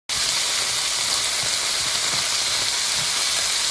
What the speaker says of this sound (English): I'm just gonna drop these in there, and I'm just gonna let them sear a little bit and get a little golden